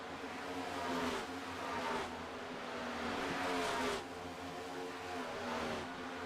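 Race cars from the iRacing NextGen Cup Series lap Charlotte Motor Speedway, engines droning and swelling as packs of lapped cars sweep past in repeated waves, steady and fairly loud without pause.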